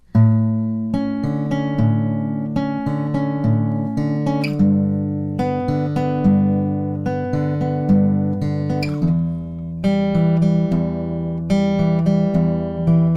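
Fingerpicked acoustic guitar playing the pre-chorus of a song, a continuous flowing arpeggio pattern moving through several chord shapes, close and even, with no voice over it.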